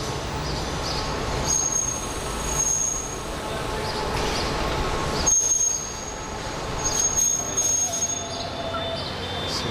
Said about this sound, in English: incredibly, the train is still running.